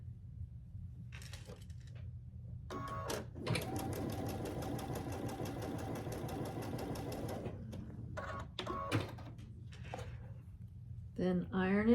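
A sewing machine runs a burst of fast, even stitching as quilt block pieces are sewn together, bracketed by clicks and handling knocks, with a low hum underneath and people talking at points.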